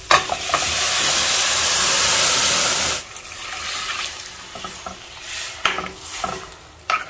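Dal with softened tomatoes and garam masala cooking in a pot, a loud steady hiss of bubbling and sizzling for a few seconds, then quieter simmering with light stirring and utensil knocks.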